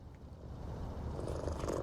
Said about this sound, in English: There's another cat over here.